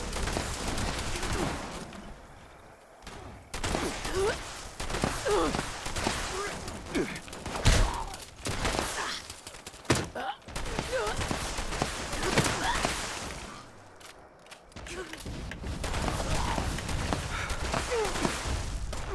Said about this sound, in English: flying and shooting simultaneously